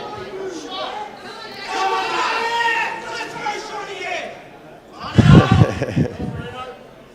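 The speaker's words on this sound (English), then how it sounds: "Crowd's getting loud there." Spectators at an Australian blackball pool national championship chattering loudly, overlapping voices that swell, dip, then surge again near the end, with a commentator talking over them.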